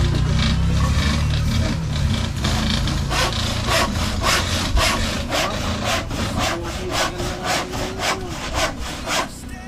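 A hand saw rasps steadily through old salvaged timber in a regular back-and-forth rhythm of strokes, close and loud, with low rumbling background noise.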